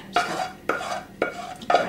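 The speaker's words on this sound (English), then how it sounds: "I'm just gonna try and scrape out the pan." A utensil scrapes leftover cheese sauce from a saucepan in four evenly spaced strokes, each a close, gritty metallic rasp with short pauses between.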